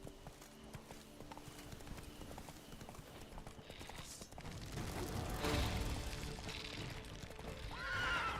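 Roach, the horse in The Witcher 3, trots with steady clip-clopping hooves, joined by a whinny near the end, all fairly faint under game ambience.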